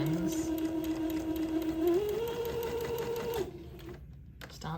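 A sewing machine runs steadily beside an entre-deux lace ladder, a close, even motor whir with rapid stitching that shifts pitch slightly as it speeds up, then slows and stops.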